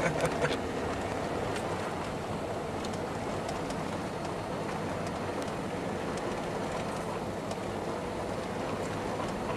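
A car rolls over bumpy railroad tracks in downtown Florence, Mississippi, giving a steady rumbling road and rail noise with faint knocks and clatters throughout, no talking.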